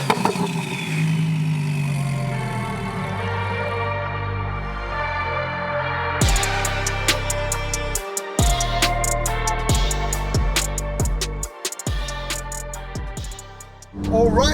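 A twin turbo 1200 bhp Lamborghini Huracan drives on the road, its engine droning and rising through revs, then sharp gear changes and brief cuts as it pulls hard, loud and close.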